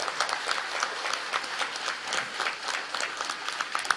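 An audience at a Tamil public gathering claps together, a sustained, even patter of many hands close and fairly loud, continuing unbroken with no talking.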